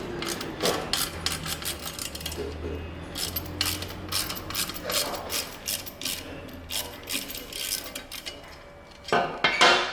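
A wrench ratchets as a bolt holding a cover on a 2018-or-later Harley-Davidson Softail Milwaukee-Eight is loosened, with bursts of quick metallic clicking repeating throughout at close range.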